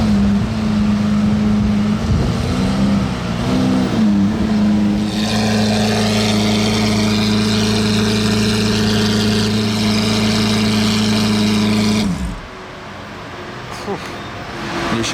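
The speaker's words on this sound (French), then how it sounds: "L'échappement c'est Capristo" A Lamborghini Aventador Roadster with a Capristo exhaust revs hard in Monaco, a loud sustained engine howl that holds for several seconds and cuts off abruptly near the end, with a person speaking over it.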